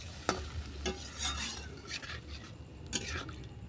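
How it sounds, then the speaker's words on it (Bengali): A spoon scrapes and stirs through fenugreek curry in a pan right after water goes in, with a few sharp clinks against the metal and a soft sizzle running underneath, close and moderately loud. "জলটা দিয়ে ভালো করে নেড়েচেড়ে মিশিয়ে নিলাম।"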